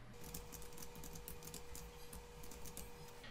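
Rapid, steady keystrokes on a computer keyboard as an equation for an ideal low-pass filter's impulse response is entered, a continuous close patter over a low background hum.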